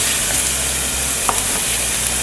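Firm tofu frying in a pan gives a close, steady crackling sizzle, with a faint clink from a utensil partway through.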